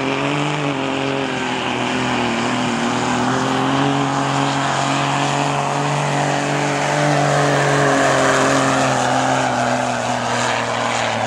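A 2.8 street diesel truck at a 2009 truck pull in Priddy, Texas, its engine roaring loud and sustained with steady droning harmonics that shift slightly in pitch as it pulls.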